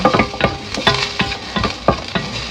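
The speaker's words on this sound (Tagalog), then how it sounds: "Igisa natin ang bawang sa mainit na kawali." Garlic sautéing in a hot pan, with a close sizzle broken by quick rhythmic stirring scrapes and clacks of a utensil, about eight strokes in under three seconds.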